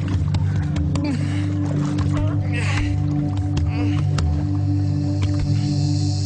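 A boat engine drones steadily on the water, with splashing and creaking sounds mixed over the low hum.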